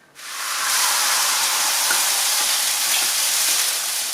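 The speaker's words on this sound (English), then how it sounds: "this is where it gets noisy, because I'm going to add a bottle of cider to this pan" Cider poured into a very hot pan of sausages for an apple casserole sets off a loud, steady sizzle and frying hiss that swells within half a second and holds strongly throughout, with no talking.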